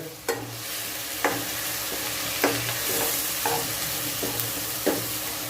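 Onions frying in a pan for chana kofta give a steady close sizzle, broken about every second by short scraping strokes of a stirring spoon against the pan.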